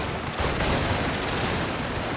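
Volleys of musket fire from Prussian infantry units in a strategy video game, a dense, continuous crackle of overlapping shots at steady loudness throughout.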